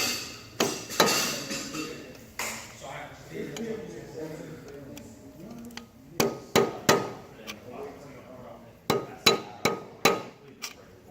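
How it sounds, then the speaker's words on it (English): A tool tapping at the cap on a wheel bearing, sharp metallic knocks coming singly and in quick clusters, close and loud between quieter gaps with a faint background rumble. "you need to start off by removing the cap"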